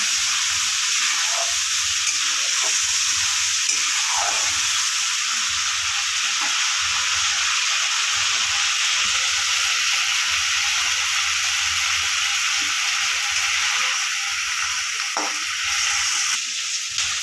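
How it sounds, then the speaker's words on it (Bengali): Ginger paste and onion sautéing in a hot pan, a continuous close sizzle and hiss with occasional scraping stirs, steady throughout and with no voices. "এবার আদা আর পেঁয়াজটা ভালো করে কষিয়ে নেব।"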